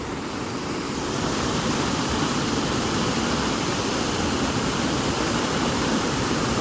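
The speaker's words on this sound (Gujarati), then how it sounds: "વરસાદ ભાઈ પાછો ચાલુ થઈ ગયો છે એને ભાઈ અવાજ તમે આમ એમ લાગતા કે દરિયામાં ભાઈ એવો અવાજ સંભળાઈ રહ્યો છે" Heavy rain pours down on a village after a cloudburst, a dense, unbroken roaring hiss that sounds much like surf on the sea, loud and constant for the whole stretch.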